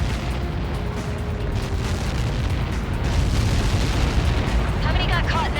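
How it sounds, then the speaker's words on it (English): A missile impact explosion in the video game Ace Combat 7 gives a sustained loud roaring blast, dense and wideband, that holds steady for several seconds with crackling debris toward the end. "How many got caught in that explosion?"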